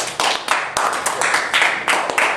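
Audience applause in a lively group setting, a dense burst of many hands clapping at close range with a few louder individual claps, steady throughout with faint voices mixed in.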